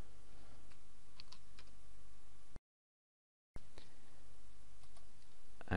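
Typing on a computer keyboard while entering a username and password to log in, a steady run of light key clicks broken by a short silent gap before the tapping resumes.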